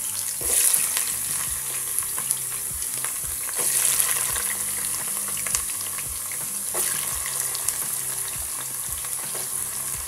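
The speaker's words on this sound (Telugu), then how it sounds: "వీటిని కలబెట్టుకుంటూ లైట్ బ్రౌన్ కలర్ వచ్చేంత వరకు ఫ్రై చేయండి" Carrot pieces frying in hot oil for Kuwaiti-style chicken maqluba rice, with a continuous loud sizzle and crackle as a spatula stirs and scrapes them at close range.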